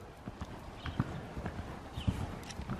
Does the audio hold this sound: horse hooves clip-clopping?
yes